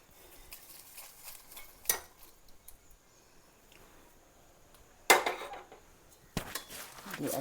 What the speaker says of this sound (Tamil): எல்லாம் மிக்ஸ் பண்ணணும்.